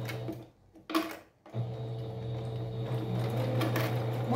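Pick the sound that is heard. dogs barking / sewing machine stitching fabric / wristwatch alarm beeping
sewing machine stitching fabric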